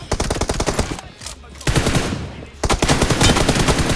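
Rapid automatic gunfire in PUBG Mobile, dense bursts of close, loud shots that break off briefly in the middle and then resume, with no talking.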